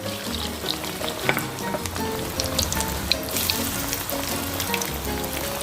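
Salmon skin fries in a pan of hot oil, a steady close crackling sizzle with scattered sharp pops and spits, no speech.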